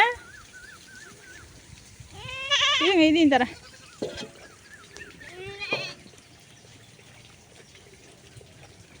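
Goats bleating on a farm as they are offered water, a few wavering, quavering cries in short bursts, fairly close, while people talk and call to them throughout.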